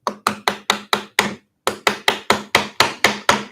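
A hammer strikes a wooden piece clamped in a vise, delivering sharp, evenly spaced woody blows: six in a row, a short pause, then eight more at the same steady rhythm, close and loud.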